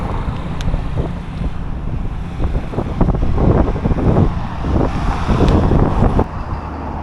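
Strong wind buffets the microphone with a continuous loud rumble and gusting roar, swelling and easing throughout, at a container-city shelter camp in Gölbaşı, Adıyaman, Turkey.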